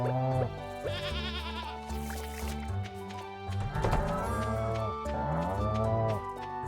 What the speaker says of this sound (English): I knew there was one goat that I didn't pet